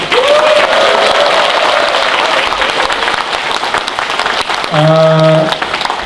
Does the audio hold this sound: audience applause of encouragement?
yes